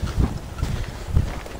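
Horse hooves thud in an uneven walking rhythm on a soft forest path in the Wendland, several close, muffled clops in quick succession with no talking.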